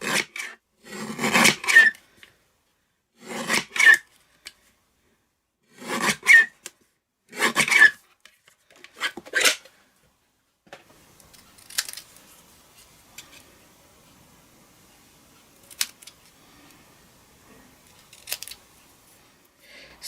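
Rasping cuts trim card sentiments stamped in Orchid Oasis ink for interactive cards: about five close, loud bursts of cutting in a steady rhythm, then fainter, sparser snips and rustles.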